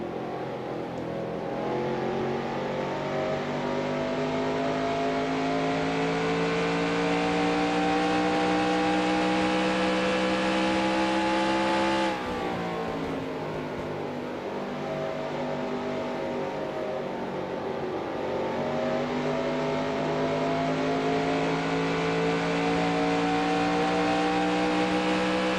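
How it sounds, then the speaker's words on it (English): Racing trucks revving in the NASCAR SuperTruck Series at Phoenix in the NR2003 racing game: a steady, loud multi-engine drone with a brief drop and gear change midway, continuing alone without talk. "I thought I heard trucks on pit road."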